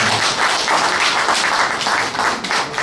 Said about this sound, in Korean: 두 분께 우리 큰 박수 한번 주시죠.